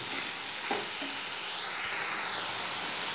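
Potatoes and eggplant fry in a spice paste with a steady, soft sizzle, a brief clink of a utensil breaking the hiss partway through.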